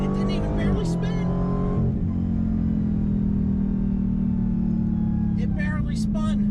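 A 2021 Dodge Challenger Super Stock pulls hard in second gear from about 20 mph. The loud engine note climbs steadily for several seconds, with voices briefly at the start and end.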